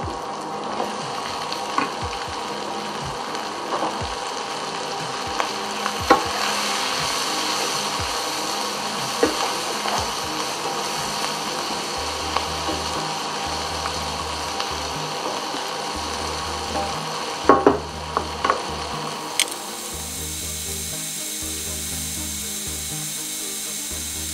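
Diced bell pepper fries in a pan for chicken jambalaya, giving a continuous soft sizzle, while a utensil scrapes and taps against the pan now and then.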